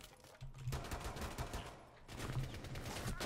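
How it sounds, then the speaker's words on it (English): Gunfire in the video game Rainbow Six Siege, a couple of quick bursts of shots heard faintly within the game mix, with no talk over them. "I just shot a few more rounds in."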